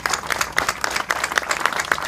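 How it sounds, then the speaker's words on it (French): An audience at an association's speech event claps with brisk, close, steady applause, individual hand claps standing out in quick succession. "on peut l'applaudir"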